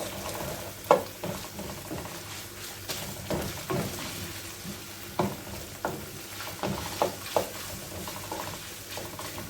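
Onions sauté with a spoonful of tomato paste in a pan, a soft continuous sizzle punctuated by repeated rhythmic stirring scrapes and taps of a spoon.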